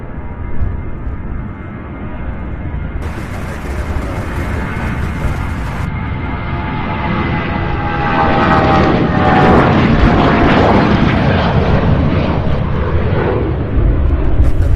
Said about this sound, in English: Here's the Southwest flight, the 737.